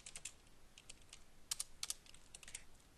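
Quiet, close typing on a computer keyboard while coding in Eclipse, irregular clusters of crisp key clicks with small pauses between bursts.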